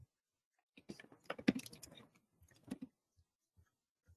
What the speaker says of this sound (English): I'm just typing it right now.